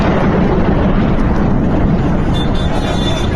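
Loud powerful explosions in Khorramabad, Iran, a dense continuous roaring blast rumble at high level, saturated and unbroken throughout.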